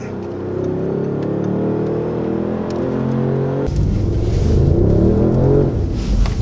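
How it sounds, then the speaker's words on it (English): A V8 engine breathing through a Milltek Sport valved exhaust, idling with a deep steady burble, then the throttle opens and it surges into a louder, rougher rumbling rev, close and prominent. "When you step on it, the valves open, you get that full V8 sound."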